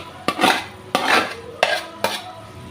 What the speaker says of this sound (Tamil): பூண்டை போட்டு கிண்டி விடுவோம்.